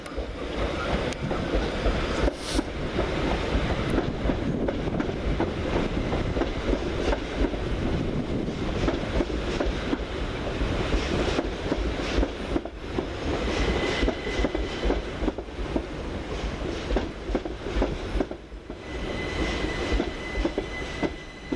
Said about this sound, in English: Arriving to terminate with another shuttle from Littlehampton is 377451 and 377116.